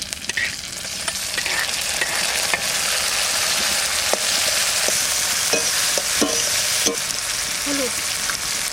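Onion and tomato fry in mustard oil with dried red chilli, black cumin and whole cumin, a steady loud sizzle with intermittent clinks and scrapes of a spoon against the pan, close and without talk.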